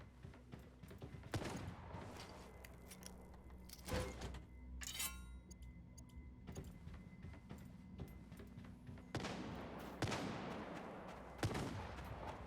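Scattered bursts of video-game gunfire, some single shots and some quick volleys, spread over a steady low rumble of background noise.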